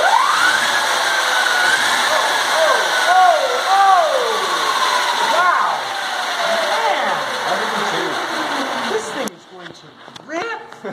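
An electric junior dragster with a 72-volt battery pack runs on a test, its motor whining and sweeping up and down in pitch, loud and close, with voices over it.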